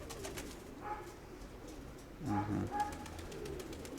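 Pigeons coo softly at a distance, a low throaty call rising twice against quiet outdoor background hiss.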